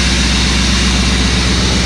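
A pickup truck's loud, steady low-pitched engine rumble with a throaty exhaust drone, continuous and close, with no voices.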